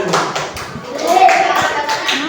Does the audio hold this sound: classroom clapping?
yes